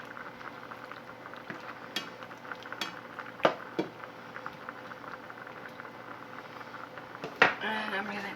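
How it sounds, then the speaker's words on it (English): Liquid simmers and bubbles in a pan while a utensil stirs it, giving soft continuous bubbling broken by sharp metallic clinks and scrapes against the pan, with some talk nearby. "we're gonna stir this and cook it until it's evaporated"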